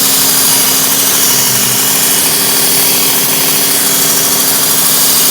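Work Sharp Ken Onion Edition electric sharpener honing a knife blade, a loud steady motor whine with abrasive grinding, continuous and close throughout.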